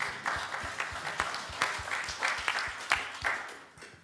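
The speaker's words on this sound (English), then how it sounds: "Can I invite a little round of applause" A small church congregation claps steadily with sharp, uneven hand claps rising and falling for several seconds, no voices over it.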